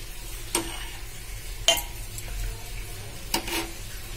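Yogurt is stirred into a rajma (kidney bean) curry in a pot: three distinct spoon scrapes and knocks against the pot stand over a low, quiet bubbling simmer.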